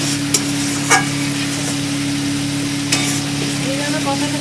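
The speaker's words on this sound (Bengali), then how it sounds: "এইভাবে কষাতে থাকবো আমি মশলাটা" Masala for gandharaj prawns sizzles steadily in a pan while a spatula stirs and scrapes it, giving a constant frying hiss broken by a few sharp clinks.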